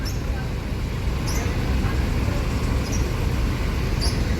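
Busy roadside traffic with buses rumbling past, a steady loud low-frequency engine and tyre roar filling the whole stretch, with occasional brief higher chirps and hisses over the constant drone.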